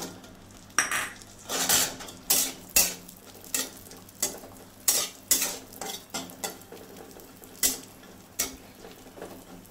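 Cashews and raisins fry in ghee under a soft sizzle while a spoon scrapes and clacks against the pan in a steady rhythm of sharp knocks, close by and without speech.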